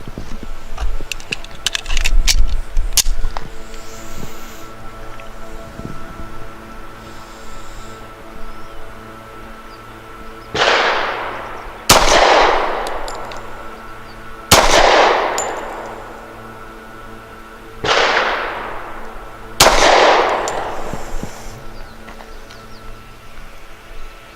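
A Rock Island 1911 pistol fires Remington Golden Saber 185 grain rounds: four sharp, loud reports spaced a few seconds apart, each with a short decaying echo, after some faint handling clatter at the start.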